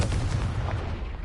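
A Confringo blast spell from Hogwarts Legacy on PS5 goes off as one loud, close, booming explosion with a rough, rumbling burst lasting just over a second.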